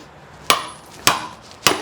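A heavy mini sledgehammer strikes large rock chunks three times in slow succession, each blow a sharp, loud crack that rings briefly and then dies away.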